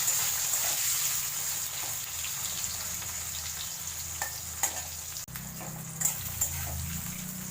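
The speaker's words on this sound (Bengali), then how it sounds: "এবার এর মধ্যে আমি করলাগুলো যে কেটে রেখেছিলাম লম্বা করে, সেটা একটু ভেজে নেব" Long strips of bitter gourd fry in hot oil with a continuous close sizzle, broken by a few light stirring clatters and no talking.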